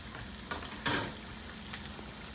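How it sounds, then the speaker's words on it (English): Shallots and garlic go into a hot pan and fry with a quiet, steady sizzle, broken by a few soft stirring scrapes and a brief burst as they land, heard close with no talk. "we're just going to drop, or the shallots and the garlic, and just drop that right in."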